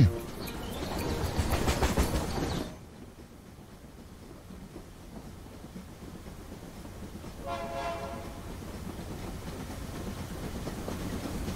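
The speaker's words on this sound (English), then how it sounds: "Another train is passing by." A cartoon train passes by with a loud rumbling roar that quickly fades to a quieter steady rolling, then a brief horn toot sounds partway through.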